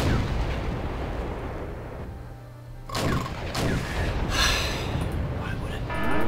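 Gunfire and shell hits in the Cold War strategy video game Wargame: European Escalation: several sharp bursts and impacts arrive from about the middle onward over a rumbling battle bed, with voices talking throughout.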